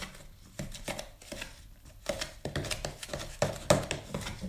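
Flour, salt and water dough being mixed by hand, with soft irregular squelching, slapping and tapping strokes in uneven bursts, close and fairly quiet, with no talk.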